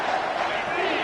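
A dense, loud roar from a packed stadium crowd at an American football game on third and goal fills the clip continuously, with a commentator's voice mixed in.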